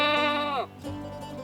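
A baby goat on a farm gives one loud, close, wavering bleat that falls in pitch at the end, followed by quieter background noise.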